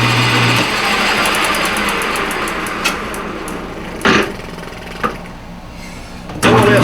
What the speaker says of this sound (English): put it back in the lathe and face it more or less off